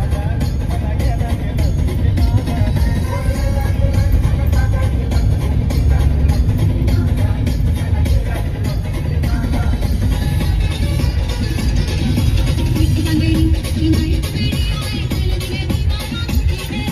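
Steady road traffic on the Mumbai-Goa highway forms a continuous low rumble of engines and tyres that never lets up, with a voice faintly present in the mix.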